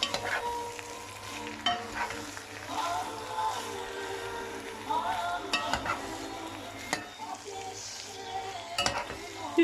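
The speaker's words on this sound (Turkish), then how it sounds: "Arkadaşlar mantarımı koydum kavurdum." Mushrooms and minced meat are sautéed in a pan, giving a soft steady sizzle under frequent scraping and stirring clicks of a utensil against the pan, fairly quiet and close.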